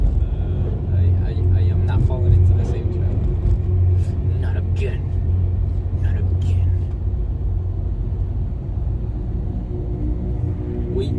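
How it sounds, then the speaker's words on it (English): Steady low engine rumble from slow-moving cars in congested road traffic, a continuous dense drone with scattered faint clicks and rattles, heard from inside the flow with a voice speaking softly over it. "Now we are in traffic now. Now this is very, very, very traffic."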